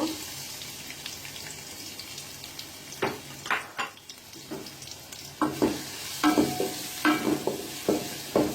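Onions frying in hot oil in a pot on a stove, a low sizzle that grows busier as a spoon stirs and scrapes in uneven bursts.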